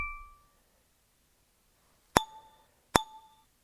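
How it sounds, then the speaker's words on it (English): Two sharp bright dings from a trading app's notifications ring out about a second apart, each ringing briefly before fading, after a faint earlier chime; no talk. "all these notifications are too much"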